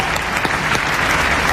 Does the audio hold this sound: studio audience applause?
yes